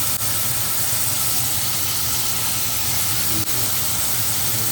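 Partly cooked rice for Ambur mutton biryani being drained, a steady broadband watery hiss with a low steamy rumble, continuous and close throughout, no talk.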